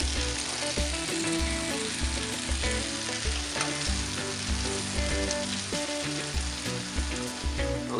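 Homemade pork dumplings fry in a pan with a loud, steady sizzle and crackle as the liquid cooks off, close and continuous throughout.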